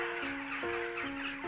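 Birds give rapid, harsh crow-like caws, four quick calls in a row, close and fairly loud, with no voices over them.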